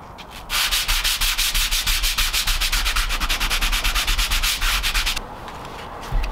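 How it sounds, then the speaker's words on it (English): Rapid rhythmic sanding strokes on a vehicle roof, part of a Tesla-powered Volkswagen Vanagon build, scratch loudly and steadily for several seconds, then stop, leaving a quieter background. "We're gonna do some sanding."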